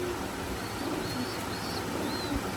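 Imported Teddy 128 pigeon pair, a running breeding pair sitting on eggs, giving soft low coos against a steady hiss of background noise, faint and close, with no talk.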